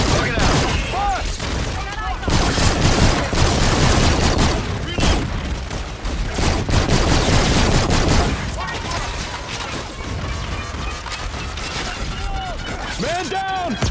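Heavy gunfire rattles in the Call of Duty: Infinite Warfare video game, with dense loud volleys, shattering impacts and booms running throughout, and voices calling out over the combat.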